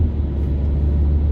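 Interior drone of a Fiat Punto 1.3 Multijet 85 hp diesel accelerating on the autobahn, a loud, steady low engine rumble over a brief moment.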